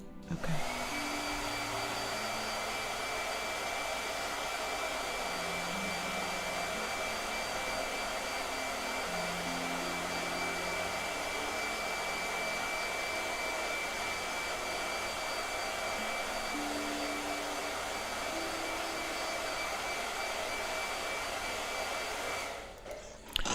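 A blow dryer runs continuously at close range, a loud steady whoosh with a high whine that holds for over twenty seconds before cutting off.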